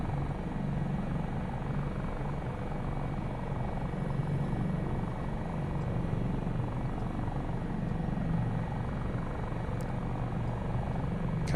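A Dauphin helicopter's engine and rotor drone on steadily in a game simulation during offshore operations, a constant close, even whine and thrum with no talking.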